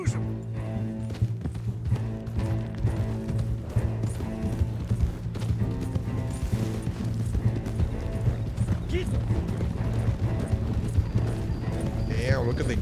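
A gang of horses galloping in Red Dead Redemption 2, steady rhythmic hoofbeats with game music and voices talking over them.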